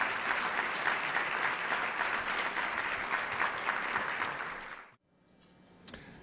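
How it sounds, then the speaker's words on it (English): Audience applause at a Latino Leaders Network luncheon: steady, dense clapping from a room full of diners for about five seconds, then cutting off abruptly into near silence with a faint scattered clap or two. "Please give them a round of applause for the great work that they do for us."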